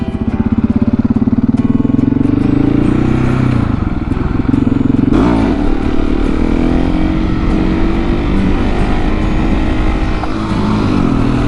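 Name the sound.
motorcycle engine during wheelie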